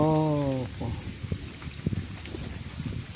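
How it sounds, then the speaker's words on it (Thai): Rain falls outdoors on a hunting trip, a soft, steady patter of drops with scattered closer taps, following a brief tonal call at the start. "ฝนตกแล้วมาลบฝนอยู่ในวันนี้"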